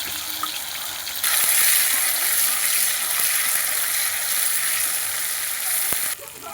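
Fennel paste drops into hot oil and breaks into a loud, steady, close sizzle that holds for several seconds before suddenly easing off.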